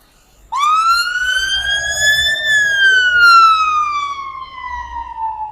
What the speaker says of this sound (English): Ambulance going, well, fire engine, sorry, going past.